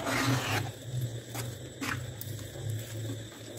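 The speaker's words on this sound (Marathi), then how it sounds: "आपण मस्त मिक्स करून घेऊया कॅरेमलमध्ये खवा" Khoa milk solids being stirred into caramel in a pan, making Mathura-style peda: soft, steady scraping and squelching strokes with a few sharper scrapes, close up and alone.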